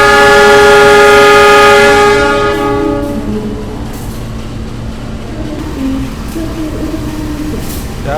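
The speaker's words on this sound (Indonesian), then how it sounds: "Dan yang di sana ada kereta api Fajar Utama Jogja yang baru masuk dari arah stasiun Pasar Senen ya." The Fajar Utama Jogja train arrives from the Pasar Senen direction with a long, loud horn blast that fades after a couple of seconds into a steady, lower rumble of the moving train.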